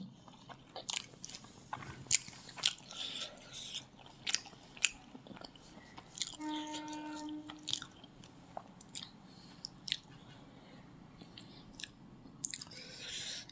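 Someone chewing a mouthful of rice lunch with eggplant and small fish, with soft close crunches and wet squishes in an irregular rhythm, plus a brief clink, faint and alone without talk.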